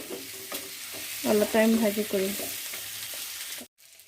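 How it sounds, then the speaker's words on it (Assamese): Potato pieces fry together with pork in a pan, sizzling and crackling up close, swelling briefly as they are stirred, then cutting off abruptly near the end. "এতিয়া আলু কেইপিচ মাংসৰ লগত অলপ টাইম ভাজি কৰিম।"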